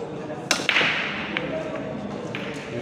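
A cue stick strikes the cue ball for the opening break shot at a billiards tournament in Lumajang, one sharp crack followed by quick clacks of balls scattering across the table, with a faint murmur of people in the room.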